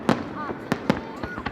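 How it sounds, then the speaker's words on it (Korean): Fireworks burst over Yeouido in Seoul as several sharp, loud pops come in quick succession, with faint whistling trails rising between the blasts. "화려한 폭죽들이 형형색색 하늘을 수놓습니다."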